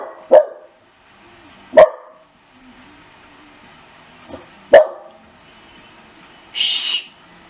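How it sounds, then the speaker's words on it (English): Dog barking indoors, three sharp, loud single barks spaced a second or more apart, followed by a brief hissing shush. "None of the other dang dogs around here bark but him."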